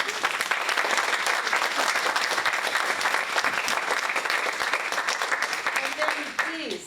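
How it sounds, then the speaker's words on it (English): Steady, dense audience applause fills the room at a talk with a professional translator, many hands clapping evenly at close range for nearly seven seconds before tapering off at the end. "first a round of applause"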